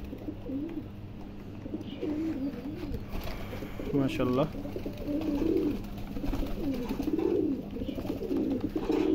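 Male pigeons coo and call repeatedly at close range while the flock feeds on a sunny day after rain, a steady run of rolling, throaty coos with a person speaking briefly over them.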